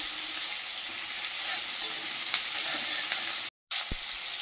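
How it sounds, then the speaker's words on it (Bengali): Whole cumin seeds sizzle and crackle in hot oil in a kadai, a steady close frying hiss with small pops, cut by a brief silent gap near the end followed by a soft thump. "দিয়ে দেবো গোটা জিরে,"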